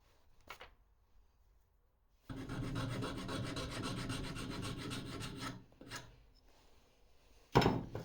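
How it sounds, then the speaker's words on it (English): A file rasps steadily across a wooden crankbait lure built up with superglue and sawdust, one continuous close scraping stroke lasting about three seconds, framed by a few light knocks and handling taps. "and then I file it flush."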